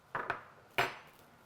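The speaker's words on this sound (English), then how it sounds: "we'll give this last one a stir" A soap fragrance mixture being stirred in a container, a few light clinks and scrapes of the utensil, close and sparse, with no talk.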